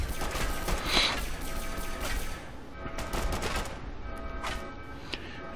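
Rapid energy-weapon fire from a Gatling laser strafes raiders in a vault-themed video game, a dense crackling burst of repeated shots that pulses on and off across the moment, with faint game effects underneath.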